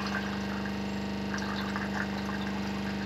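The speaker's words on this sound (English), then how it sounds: "we're just running the water to clean the tank out" Water being pumped overboard from a sailboat's tank while it is flushed clean, heard as a steady mechanical pump hum with a constant gushing, splashing flow that stays even and continuous throughout, with no talking.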